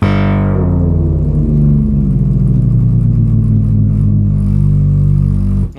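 A Moog/Realistic MG-1 analog synthesizer holds a loud, sustained low drone with detuned oscillators beating against each other, a thick wobbling tone that fills the space alone before cutting off abruptly at the end.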